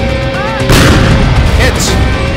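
In an ArmA 2 tank battle, a heavy tank cannon blast booms close and loud, followed by a rolling rumble and a second fainter crack, with a short voice heard just before.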